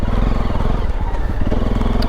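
A motorcycle rides slowly along a grassy trail full of hidden holes, its engine close and loud with a steady chugging putter and brief dips as the throttle eases.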